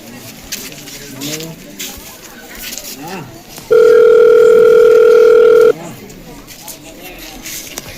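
A telephone call rings out in a Gujarati comedy scene as one steady electronic tone lasting about two seconds, loud and close, with people talking before and after it.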